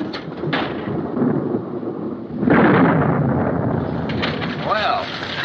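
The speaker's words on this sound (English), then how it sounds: "Just lightning." Thunder during a storm rolls in as a loud, sustained rumble, surging midway and then lingering, with wind noise and a faint voice toward the end.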